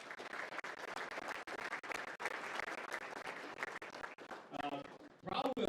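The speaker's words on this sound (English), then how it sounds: "Give Jimmy James a round of applause" Audience applause fills a senior athletic banquet room, steady dense clapping under a crowd, with a few louder voices and cheers rising near the end.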